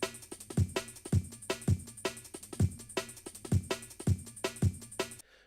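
Drum break chopped and resequenced by a MIDI clip in a jungle production template, punchy kicks and snares with hissy cymbals in a fast, steady looping pattern, loud and dry with nobody talking.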